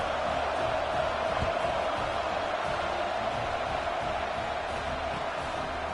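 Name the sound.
football stadium crowd at Michigan vs Tennessee game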